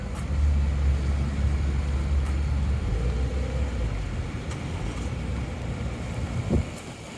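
A car on a neighbourhood road near a signalled crossing rumbles past as a low engine drone and tyre roar, fairly close and steady, with faint traffic noise around it and no talking.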